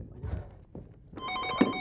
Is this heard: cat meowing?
no